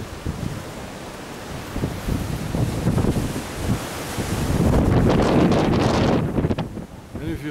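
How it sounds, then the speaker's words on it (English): Strong wind gusts buffeting the microphone in rain, rising to a loud roar midway before easing slightly. "because it's windy and it's raining"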